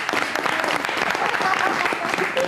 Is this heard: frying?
no